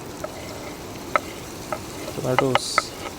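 Capsicum and tomatoes cook in butter in a pan at an outdoor street food stall in Manali, with a soft sizzle beneath sharp metallic clinks of stirring that grow busier toward the end.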